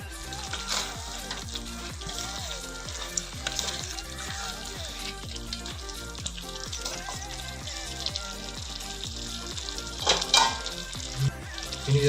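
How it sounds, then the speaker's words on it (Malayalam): Chicken pieces fry in butter in a pan, a loud, dense, continuous sizzle and crackle close up, with a few sharper clatters near the end. "ബട്ടറിലല്ലേ ഫ്രൈ ചെയ്തു"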